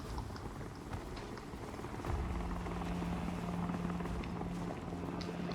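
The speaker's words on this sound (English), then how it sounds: "That's a helicopter that's leading shit this way." Helicopter in the video game Project Zomboid, a steady low rotor drone and hum with a broad noisy wash, rising slightly louder partway through and holding as a continuous tone, with no talk.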